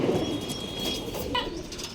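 A pigeon coos at a breeder's loft, a soft low murmur with a short burst of higher chirps midway, set against steady background noise.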